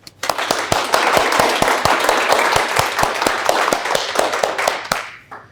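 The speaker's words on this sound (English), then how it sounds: "Let's give applause for Alin." Audience at a tech conference session applauds a speaker, a dense burst of clapping hands that starts abruptly, holds steady for about five seconds, then quickly dies away.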